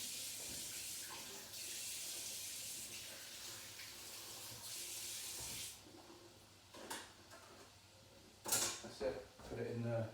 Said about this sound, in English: Rinse a bit of cold water on it so it doesn't heat up too much inside the blender.